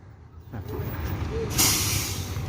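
An intercity bus at the Balai Solo terminal rumbles with a low engine idle, then lets out a sharp hiss of air brakes partway through, close and steady.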